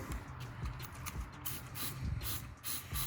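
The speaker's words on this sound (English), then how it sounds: "I'm gonna go ahead and spray this bad boy with that" Short hissing bursts of aerosol engine cleaner sprayed in a Mitsubishi Lancer Evolution IX engine bay repeat in quick succession, some longer than others, close by.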